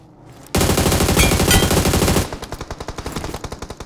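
Sustained automatic gunfire rattles loudly in a BGMI battle royale match. A dense burst is followed by a slower string of separate rapid shots, with no talking.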